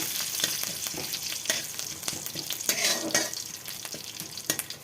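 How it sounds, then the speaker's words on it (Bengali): Curry leaves and nigella seeds crackle in hot oil with a busy, close sizzle and sharp pops scattered throughout, with no speech. "তো কারি পাতা দিয়ে দিচ্ছি বন্ধুরা"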